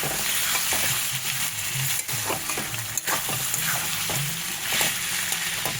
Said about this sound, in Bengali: এই আদা বাটাটা দিয়ে দেবো দিয়ে আরও কিছুক্ষণ কষাবো